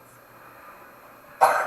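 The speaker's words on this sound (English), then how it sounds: "You give me a microphone and I have to cough." A single sharp cough into a microphone during a livestream, close and loud, bursting out suddenly after a stretch of quiet room tone.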